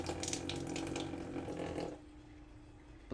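A 5-gallon water jug pump runs with a steady rush of flowing water and a motor-like hum for about two seconds, then cuts off, leaving a quiet low hum.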